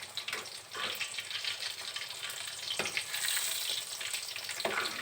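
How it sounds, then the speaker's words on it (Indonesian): Battered smoked beef pieces frying over medium heat, a dense continuous sizzle with crackling pops, close and steady, with no voices. "kita goreng dengan api sedang, jangan terlalu tinggi"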